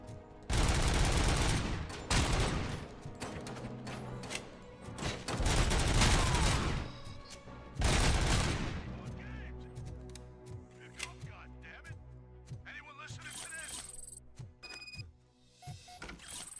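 Heavy automatic gunfire from the video game RoboCop comes in three long, loud bursts separated by short gaps, then gives way to quieter game sounds and scattered clicks, with a player talking at times.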